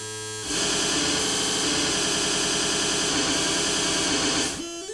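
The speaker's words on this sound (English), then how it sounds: "short sample of noise." A Mungo Enterprises w0 arbitrary oscillator loops a short noise sample from an SD card, a loud, dense, buzzing hiss that starts abruptly, holds steady for about four seconds and cuts off.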